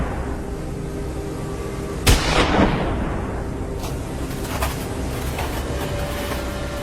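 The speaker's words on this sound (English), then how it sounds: "The gunshot rang out sharply, a bullet flew out in the blink of an eye" A single sharp rifle shot cracks out in a wintry forest during a wild boar hunt, one loud report with a brief rolling echo, over steady background rumble.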